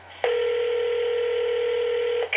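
A telephone dialing tone during a prank call, one long steady electronic tone that holds for about two seconds, loud and close, with a brief click at the start and end.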